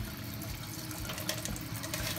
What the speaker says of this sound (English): we're gonna turn on our water